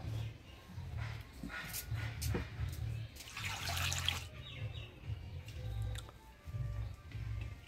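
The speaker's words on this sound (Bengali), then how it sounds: "আমি শাকটা বাইছে ধুয়ে নিই" Lafa greens are washed by hand in water, with splashing and sloshing in bursts and a longer rush of water midway, fairly quiet and close, over a low hum.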